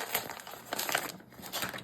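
Plastic packaging around a Tombow tin of 12 colored pencils crinkles and crumples as it is torn open, a run of close, crackly rustling bursts with no voices.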